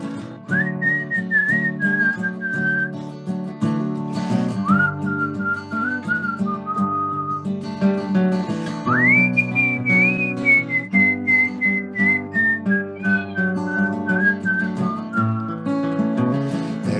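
A melodic tune whistled clearly over steady instrumental backing, the whistled phrases rising and sliding in long sustained notes.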